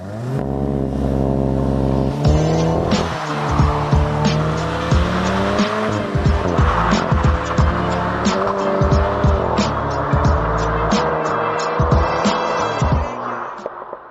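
A 2024 Nissan Magnite Kuro budget SUV doing a hard launch: loud, close engine revving with rising gear tones and repeated sharp tire squeal and skidding across the whole run, no talk.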